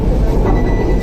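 Mumbai metro train coasting toward Versova station, a steady loud low rumble of the carriage in motion heard from onboard, with no speech over it for about a second.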